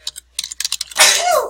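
A single sneeze bursts out after a run of light keyboard typing clicks, loud and close, trailing into a breathy tail.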